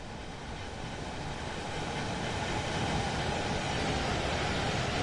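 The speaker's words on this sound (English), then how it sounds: "We must wait for this train to pass in order to continue." A passing train in the Train Sim World 2 game on the Hamburg–Lübeck main line near Bargteheide, a broad steady rumbling roar with faint rail clatter, swelling slightly louder over five seconds, no voices.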